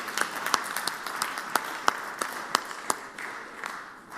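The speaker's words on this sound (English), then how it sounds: "Please stand so we can give you a round of applause." Scattered applause rises in the Mississippi Senate chamber, individual claps standing out as sharp distinct cracks over a soft, moderately distant bed of clapping and murmur.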